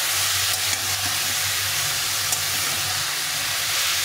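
Ash gourd sautéed with spices alongside a hilsa fish head sizzles in a pan, a loud continuous hiss with a low hum beneath, close and without speech.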